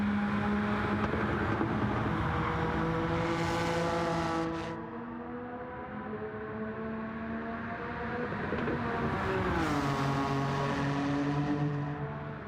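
A Suzuki Escudo Pikes Peak race car in the game Gran Turismo 7 drones loudly and steadily, its engine pitch climbing through gears, dipping briefly on a shift, then rising again.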